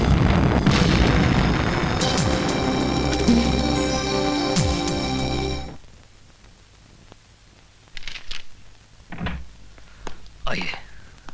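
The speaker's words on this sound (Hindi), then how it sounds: "यकीन नहीं आता तो अपने गोडाउन के धमाकों की आवाज को सुन।" Warehouse explosions in a Hindi action movie scene: dense roaring blasts and booming rumble for several seconds, then a sudden drop to quieter room tone with a few thuds and short voices.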